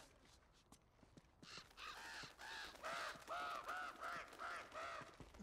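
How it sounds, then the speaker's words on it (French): Crow in the video game Uncharted: Among Thieves cawing in a series of about eight hoarse, evenly spaced calls that grow louder and closer, with no talk over them. "Corbeau."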